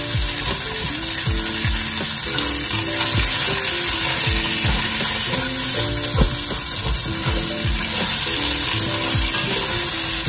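Garlic and white onion fry in a pan for osso buco, a steady close sizzle with frequent stirring clicks and scrapes running throughout, no talking.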